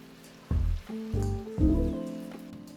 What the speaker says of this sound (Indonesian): Dan kalau sudah panas, masukkan atau goreng dahulu tahunya.